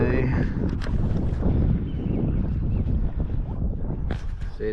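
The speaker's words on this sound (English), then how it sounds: "See, it's windy." Strong wind buffets a fishing boat on open water, a steady loud rushing roar with microphone buffeting that stays heavy for the whole stretch, broken by a few brief gusty bursts near the end.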